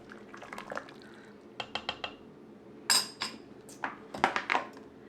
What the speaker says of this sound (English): Let's go ahead and give this a good stir.